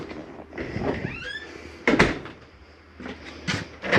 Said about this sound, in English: Make sure your shower door is snapped closed for travel.